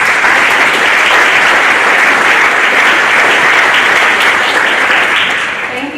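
Sustained applause from a large, sold-out audience at a university sports-economics talk, a steady dense clatter of clapping that holds for several seconds and tapers slightly at the end.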